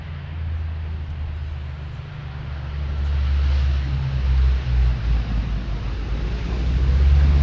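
An airplane lands on runway 12 right at Minneapolis–Saint Paul airport, heard as a steady distant engine roar with a low rumble that swells and surges slightly, buffeted by wind noise against the microphone.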